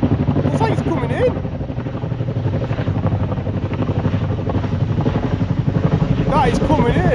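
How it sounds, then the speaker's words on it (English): A big Chinook twin-rotor helicopter comes in over a farm, its loud, steady rotor chop and engine roar filling the air close by while people talk excitedly over it. "Oh baby, it's the Chinook. Looks like it's coming in."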